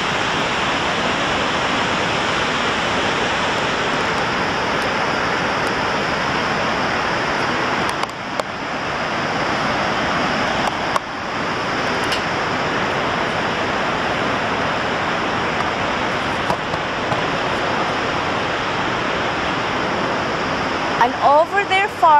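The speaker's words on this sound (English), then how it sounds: "That's the falls. Can you see? Yes, that's Niagara Falls," Niagara Falls on the USA side in New York roars as a dense, constant rush of falling water heard at close range, masking any other sound through the whole stretch.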